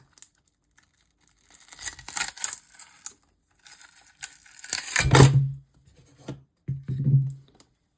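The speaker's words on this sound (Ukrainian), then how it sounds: "І давайте будемо знімати цю пластикову кришку." Prying a glued plastic cover off a 36V battery pack built from 18650 cells gives intermittent close-up cracking, scraping and clicking bursts, with a few sharp snaps separated by quiet pauses.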